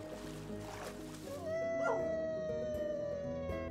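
A pet wolf howls in the Minecraft video game, a sustained wavering tone that rises and holds steadily over layered game music.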